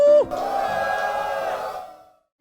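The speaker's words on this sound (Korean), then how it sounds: "마지막으로 환호성 한번 딱 크게 지르고" Fans at a fan meeting let out a loud, sustained cheer of mixed shouts and whoops, starting with one sharp high call and fading away after about two seconds.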